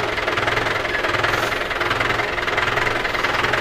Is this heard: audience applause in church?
no